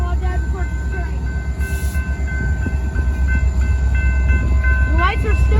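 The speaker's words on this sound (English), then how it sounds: "While Dad records the train." A freight train rolls through a road crossing at S 33rd W Ave in Tulsa, Oklahoma: a steady, loud rumble of rail cars with sustained tonal ringing and a brief horn-like burst, under occasional talk nearby.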